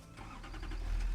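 Truck engine in the Satisfactory video game, driving in circles: a brief, steady mid-range motor drone with a deep low rumble swelling slightly, close and alone.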